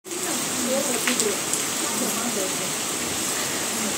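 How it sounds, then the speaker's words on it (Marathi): A heavy monsoon downpour roars as a dense, constant wash of rain close by, with faint voices mixed into the noise. "खूप भयंकर असा पाऊस सुरू झाला"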